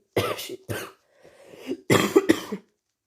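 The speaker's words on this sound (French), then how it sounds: "Pardon pour les toussements." Several harsh coughs in two bursts separated by a brief pause, close and fairly loud, with no talking.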